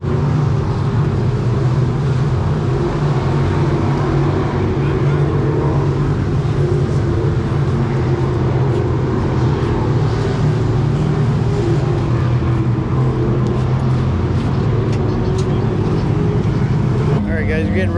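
Race cars run qualifying hot laps at a speedway, giving a continuous loud engine roar that swells steadily as they circle the track, heard from the stands with talk over it.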